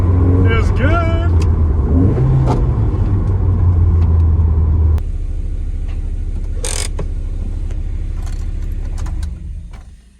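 A Toyota MR2 with a blown head gasket accelerates and revs as it drives along a winding mountain pass, its loud engine drone steady and close, rising in pitch before easing off and fading near the end.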